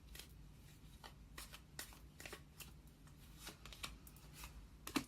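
Tarot cards are shuffled close by in a run of quick, crisp riffles and soft slides, ending with a sharper snap as cards are drawn.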